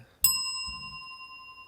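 A single bell is struck once, nearby and clear, and its bright ring decays slowly with no talk over it.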